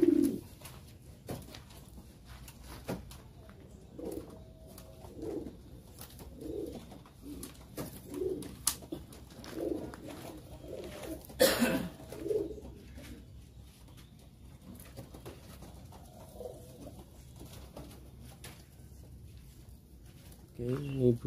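Pigeons cooing, a series of soft rhythmic coos repeating close by in a quiet setting, with brief pauses between bursts and occasional knocks and handling noises.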